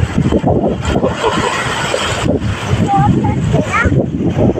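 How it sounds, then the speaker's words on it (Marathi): Water surging and crashing against rocks on a rocky shore worn with holes, a steady rushing wash with wind noise, and voices speaking over it throughout. "हे बघा पाणी बघा कैसं मारते नाही."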